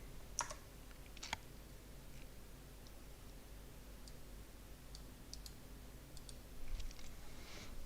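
Faint, scattered keystrokes and clicks on a computer keyboard tick through a quiet room, sparse and irregular over a low background hum.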